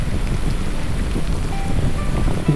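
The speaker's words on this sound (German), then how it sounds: "Der Wind wehte eisig und erbarmungslos in unsere Gesichter." Icy wind blowing across an Alpine pass on the Tour du Mont Blanc, a steady loud roar buffeting the microphone throughout, with no voices.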